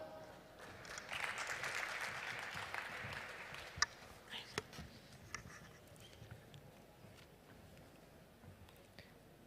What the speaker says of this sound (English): Please, an applause for him also.